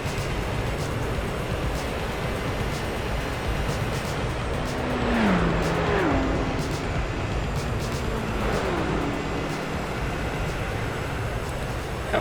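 A race car in Gran Turismo 4 takes speedway corners on worn-out tires, its engine droning steadily and loudly throughout, with gear-shift dips in pitch as it slows for each bend; no voices are heard.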